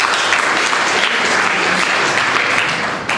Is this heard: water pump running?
no